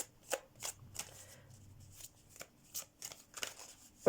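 Tarot cards are shuffled and drawn in a series of soft, quick riffling bursts and light snaps spaced irregularly, close and quiet, with no talk over them.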